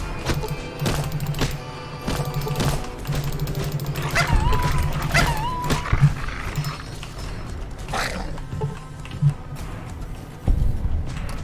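Dogs bark, snarl and whimper in Fallout: New Vegas, with loud, busy game sounds layered throughout and a few sharp thumps standing out near the end.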